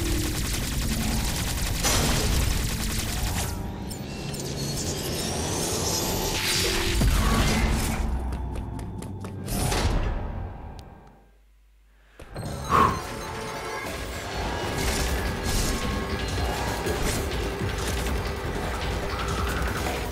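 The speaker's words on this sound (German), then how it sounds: "Aber jetzt gibt's erstmal wieder mit der Omega-Kanone aufs Maul." Omega Cannon blasts in the Metroid Dread boss fight: dense, loud bursts of weapon fire and impacts with whooshing effects, a short near-silent gap in the middle, then heavy firing resumes.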